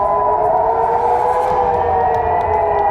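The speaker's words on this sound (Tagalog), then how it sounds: "lalo na kapag umalingaw-ngaw na ang sirena" A loud, steady air raid siren wails continuously at a sustained pitch, with no break across the whole stretch.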